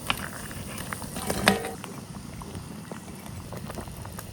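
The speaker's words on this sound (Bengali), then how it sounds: "প্রায় 5 মিনিট পর উতলাই উঠছে" Tomato fish curry with fried Minar carp simmering in a pot of water, a low steady bubbling with soft clicks and a brief louder splash or clatter near the middle.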